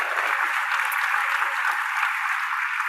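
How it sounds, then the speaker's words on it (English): Conference audience applause, a steady wash of clapping hands that holds evenly throughout, with no one talking. "A round of applause for Nick and Jennifer."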